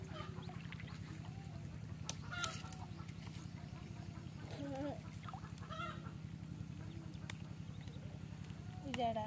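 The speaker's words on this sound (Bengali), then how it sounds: "বালি হাঁসের বাচ্চা" A dense, continuous chorus of high peeping calls from lesser whistling duck ducklings, close and fairly loud, with a person talking at times over them.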